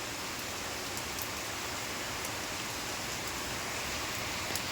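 Steady, even rain in Pandharpur hisses continuously with no pauses, a broad wash of falling water at moderate volume.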